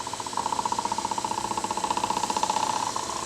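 A wood lathe spins a walnut bowl at about 900 rpm, giving a steady hum with a fast, even pulsing throb that beats with each turn of the slightly warped bowl, heard up close and continuous.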